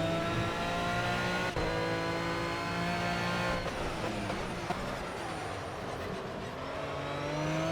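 Aston Martin V12 Vantage GT3 racing around Silverstone GP in a racing game, its V12 engine droning loud and steady with rising and falling revs and a gear change, close and continuous without talk.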